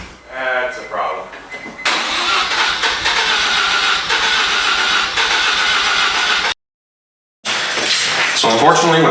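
A Mazda RX-7 FC rotary engine, its throttle cable misadjusted and pulling the throttle open, cranks and fires into a loud, high rev, with a brief cut of silence and speech heard around it.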